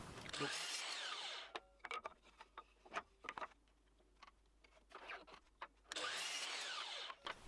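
A table saw cuts two short wooden offcuts of about 15 cm each, with a loud broadband whine for roughly a second and a half at the start and again near the end, separated by quieter clicks and handling knocks.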